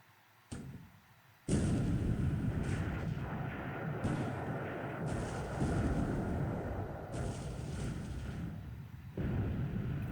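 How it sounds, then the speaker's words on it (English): Naval gunfire in the War in the Pacific: Admiral's Edition strategy game, with 8-inch shells hitting a destroyer. Several booming onsets roll into sustained, loud rumbling blasts that carry on without pause. "But I can land one more 8-inch shell hit on this destroyer with critical damage."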